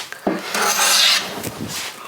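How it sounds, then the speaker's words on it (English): A bench plane skims small wood shavings off a workpiece, giving a few quick rasping strokes close up and fairly loud, with no one speaking. "now I'm starting to get some very small shavings."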